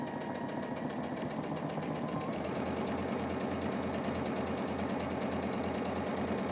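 A sewing machine stitches quilt block units for a pinwheel block of half-square triangles, running as a continuous fast mechanical whir with a rapid needle rhythm, steady and close with no talking.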